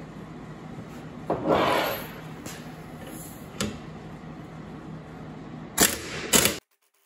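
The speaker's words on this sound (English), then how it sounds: "we got the puller set up on the brake drum. We'll go ahead and remove it." A puller works a brake drum off the rear axle of an Allis Chalmers WD tractor, giving a low mechanical background broken by scattered scraping rubs and a few sharp metallic knocks, with two louder clanks just before it stops.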